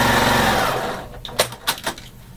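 A sewing machine runs in a steady, rapid buzz while stitching a quilt seam, then stops, followed by a few light clicks and taps nearby.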